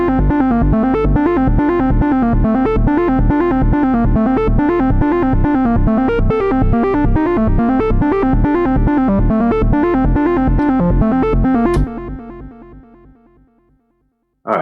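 A trance lead synth built in FL Studio's Sytrus plays a loud, fast, rhythmic pattern of bright buzzy notes in a steady pulse, alone, then fades out over a few seconds before an abrupt final click.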